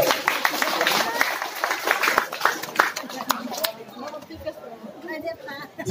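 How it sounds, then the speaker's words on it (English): Audience applause at a community gathering, dense clapping from a crowd filling the whole stretch, loud and continuous with scattered voices chattering underneath. "Please give a hand of applause for yourself."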